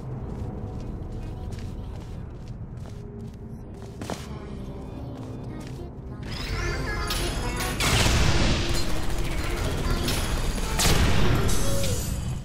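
Turret gunfire and destruction in the Portal 2 video game, a dense run of sharp bursts, crashes and impacts that builds louder in the second half, with no talk.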